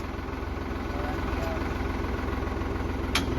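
A tractor with its hydraulic lift stuck idles at a steady low throb nearby, a continuous rhythmic rumble with a brief sharp click near the end.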